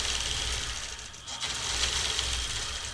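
A sewing machine stitching an appliqué border, a steady close mechanical whir and rapid ticking of the needle running continuously, briefly dipping mid-way before resuming.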